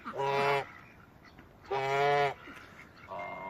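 Indian runner ducks giving loud, harsh honking calls in three bursts separated by short pauses, close by on a farm, with no talking over them.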